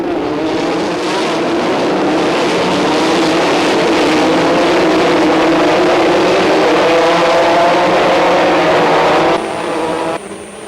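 Formula 3 race cars roaring past together during a 1988 French championship race, a loud sustained engine howl rising and falling throughout, with no voices.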